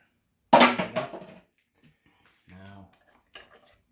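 Vape-making bottles thrown into a sink, a sharp burst of clattering glassy knocks followed by a few smaller rattles and a brief later clink, with a short voice in between.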